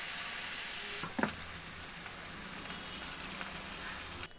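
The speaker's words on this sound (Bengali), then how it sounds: "এবার সামান্য একটু জল দিয়ে দেব।" Potato and egg curry in a pan sizzling and frying steadily as a little water goes in, with a brief splash and stir near the start and a hissing simmer continuing up close, no talking.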